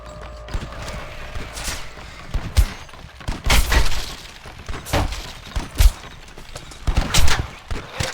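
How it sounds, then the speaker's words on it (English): Scattered sharp gunshots in the video game Red Dead Redemption crack irregularly at middling distance, some in quick pairs, over a busy background of movement and clatter. "I can hear more gunshots"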